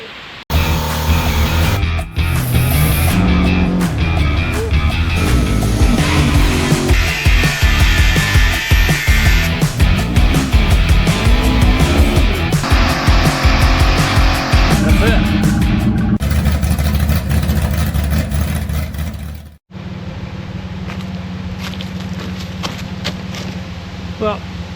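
4th gen Pontiac Firebird engine revving hard in a garage as the rear tires spin, loud sustained roar rising and falling for about twenty seconds before cutting off abruptly, with people talking.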